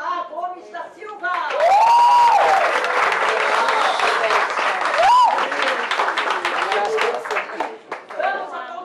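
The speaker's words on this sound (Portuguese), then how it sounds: "Vamos aplaudir Marco A." Audience at a legislation and ethics lecture breaks into loud, sustained clapping with a couple of cheers for a named participant, with a speaker talking briefly before and after.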